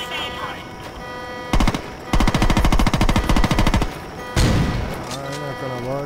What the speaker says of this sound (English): I've got a shotgun. A machine gun.